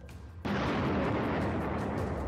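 A FAB 500 bomb blast in Kharkiv: after a brief quiet moment a sudden heavy boom breaks in and becomes a loud, sustained roaring rumble that fills the rest of the clip.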